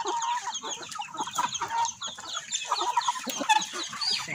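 Several chickens cluck and squawk close by, with a rooster calling among them, a busy, continuous farmyard chorus with no talking.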